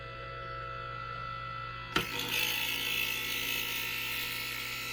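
A Hornady case trimmer cuts a brass cartridge case. A steady hum runs throughout, then a sharp click gives way to a brighter, continuous whirring cut that holds to the end. No one speaks.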